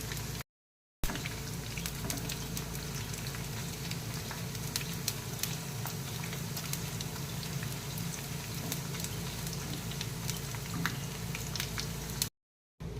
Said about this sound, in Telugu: కాస్తంత కరివేపాకు కూడా ఫ్రై చేసుకోవాలి.